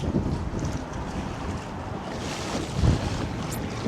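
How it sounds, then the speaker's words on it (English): Wind buffeting a small fishing boat along the Florida Keys bridges, a steady close rushing roar with a louder gust near the end and no talk. "Gonna get hit by some more wind right here."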